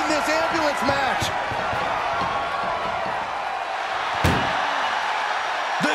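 An ambulance door slams shut during a wrestling match: one sharp, loud bang near the end, over steady arena crowd noise and ongoing commentary.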